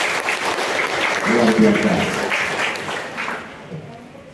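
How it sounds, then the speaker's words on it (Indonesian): Applause from an audience at a disability community event, dense clapping filling the room under a brief spoken phrase, then thinning out toward the end. "Ya, tepuk tangan."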